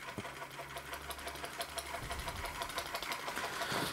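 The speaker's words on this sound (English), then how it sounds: "The Linemar Atomic Reactor model steam engine in all its glory, with its little flashing light." A Linemar Atomic Reactor model steam engine runs with a quiet, rapid mechanical clatter and light chuffing, steady and close, with a faint low hum early on.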